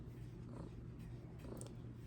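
A cat purring up close, a soft continuous low rumble with a steady pulsing rhythm, quiet and alone with no voices.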